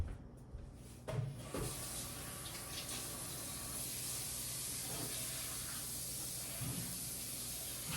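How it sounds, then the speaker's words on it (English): Potatoes being rinsed a second time under a running kitchen tap, a steady close hiss of flowing water with a few soft knocks and clunks along the way. "So now I'm going to wash my potatoes again, just a second wash, real quick."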